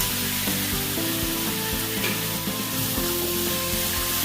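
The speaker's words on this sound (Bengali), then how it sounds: "ভেজে রাখা আলু পটলটা দিয়ে দিচ্ছি" Fried potato and pointed gourd pieces go into a sizzling pan of prawn masala, giving a continuous close frying hiss with repeated stirring knocks and scrapes, no talking.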